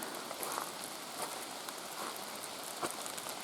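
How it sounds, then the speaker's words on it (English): Steady hiss of heavy rain pattering on a forest trail and foliage, with scattered louder drops, close and continuous with no voices. "Ooh, it's raining pretty hard out here."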